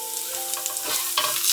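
Shiitake mushrooms stir-fry in oil left from frying sakura shrimp, a steady close sizzle with scraping stir strokes growing louder toward the end.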